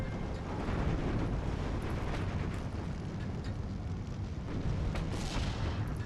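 Dense, continuous battle rumble of cannon and tank gunfire from a 37mm half-track gun and a Panzer IV 75mm in Steel Division 2, booming shots blending into a loud, steady low roar with no pauses.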